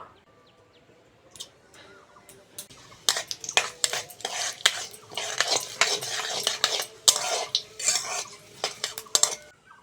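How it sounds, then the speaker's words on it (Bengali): Whole cumin seeds tossed into mustard oil in a wok, with metal stirring and clinking against the pan over a light sizzle, busy and close, starting quietly before growing denser. "কড়ার মধ্যে সরষের তেল দিয়ে দেবো। ফোড়নের জন্য গোটা জিরে নিয়েছি, দিয়ে দেবো।"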